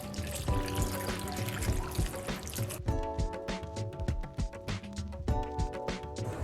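Water poured into a pot of sorrel with pineapple skins and orange peel, a steady splashing trickle with a few sharp knocks and clinks, close and fairly loud, no talking.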